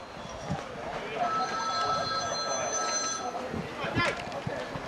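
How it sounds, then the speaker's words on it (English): A telephone ringing somewhere at a high school baseball game, a steady electronic ringing tone under commentators' talk and crowd noise, moderately faint and lasting a few seconds. "It's phone ringing somewhere, John."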